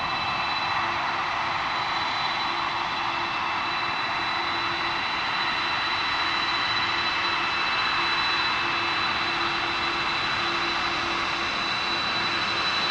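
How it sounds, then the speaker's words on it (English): Air Force One, a jet aircraft, arriving at Palm Beach International Airport on a windy evening, heard as a steady, continuous engine roar with a high whine that holds evenly throughout, with no voices. "There you see Air Force One coming in close."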